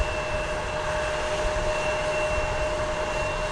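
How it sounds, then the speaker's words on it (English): An American Airlines Airbus A319 jet arriving at Dallas Fort Worth airport gives a steady, broad engine roar with a faint whine, sustained at constant loudness throughout, with no voices. "It's an Airbus A319."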